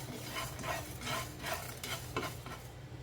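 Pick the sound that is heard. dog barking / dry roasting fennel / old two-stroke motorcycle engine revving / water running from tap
dry roasting fennel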